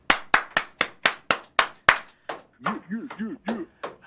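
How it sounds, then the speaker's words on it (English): A short burst of loud clapping, roughly eight sharp claps in steady rhythm, followed by a few voices calling out. "get this man a round of applause"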